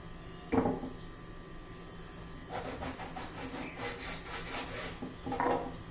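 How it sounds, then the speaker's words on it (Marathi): A knife slices an eggplant lengthwise into pieces, giving a short crisp cut, then a longer run of scraping strokes and another brief cut near the end, close and fairly quiet. "आता आपण वांगी चिरून घेऊया तर बघा एका वांग्याची आपल्याला तीनच फोडी आणि ती आहे उभ्या अशा फोडी करून घ्यायची आहेत"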